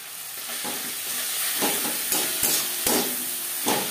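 Ginger paste and green chili paste fry in oil with onion, tomato, salt and turmeric, a steady loud sizzle broken by repeated scraping stirs of a spoon in the pan.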